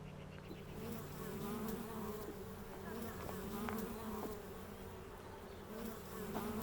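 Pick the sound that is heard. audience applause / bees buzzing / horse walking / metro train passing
bees buzzing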